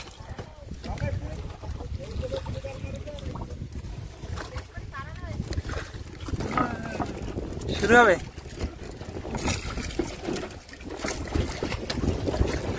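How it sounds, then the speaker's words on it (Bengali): A fishing boat pulls up on the water in the Sundarbans to cast nets while strong wind buffets the microphone, its engine and splashing mixed under people talking. "এখানে একটা বোট এসে দাঁড়িয়েছে,"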